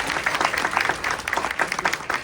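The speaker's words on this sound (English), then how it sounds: "One last round of applause." An audience at a career day panel event applauds, a dense, steady wash of many hands clapping at moderate loudness with no talk over it.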